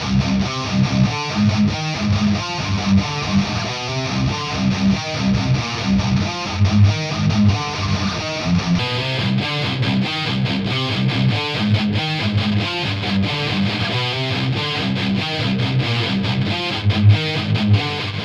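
A heavily distorted metal guitar riff from a POD X3 through an Excel 412 cabinet impulse blend, with a 57 mic on the edge plus a darker second mic, chugging in tight palm-muted rhythms with dense, loud, saturated tone throughout.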